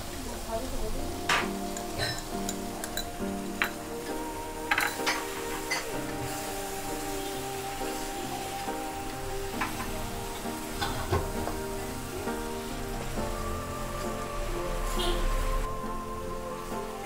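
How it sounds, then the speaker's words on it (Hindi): Tomato paste fries with garlic-onion paste in a kadai, giving a steady, close, crackling sizzle that continues throughout under a speaking voice. "अब इसमें मैं टमाटर का पेस्ट डाल रही हूँ।"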